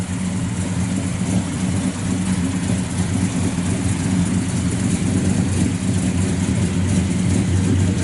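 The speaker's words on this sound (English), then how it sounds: "it sounds real good out the exhaust" Car engine running with a deep, steady exhaust rumble, loud and continuous throughout with no talk.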